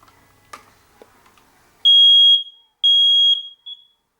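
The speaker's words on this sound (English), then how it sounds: "So now we'll do the first household alarm." A household smoke alarm under test lets out two long, piercing high-pitched electronic beeps and a short third chirp, loud and close after a few faint handling clicks, with no talking.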